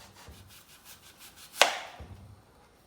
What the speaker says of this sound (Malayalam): റൗണ്ടായിട്ട് കട്ട് ചെയ്യണം.